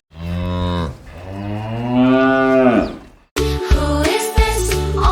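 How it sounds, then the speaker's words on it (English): A cow lets out two long, loud moos in succession, the first shorter and the second drawn out, close up with a brief gap before a rougher, louder bellow follows. "It's a cow,"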